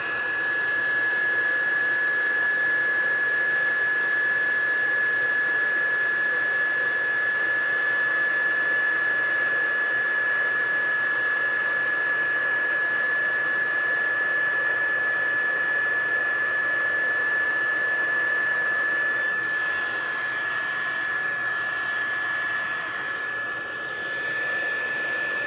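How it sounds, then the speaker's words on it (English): A heat embossing tool blows hot air over a Christmas card with a loud, steady whooshing hiss and a constant high whine, running continuously close by for the whole stretch. "I think my heat tool will work over this far. Heat embossing is so awesome."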